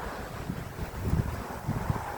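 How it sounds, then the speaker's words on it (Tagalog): Strong wind buffets the microphone with a constant rough roar and low gusting thumps, loud and close, with no voices. "Lakas ang hangin."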